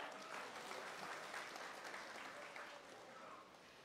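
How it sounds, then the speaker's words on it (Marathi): Faint, continuous clapping from an audience at a Marathi health talk event, rolling on evenly for a few seconds and easing slightly toward the end. "म्हणून तुमच्यासाठी जोरदार टाळ्या"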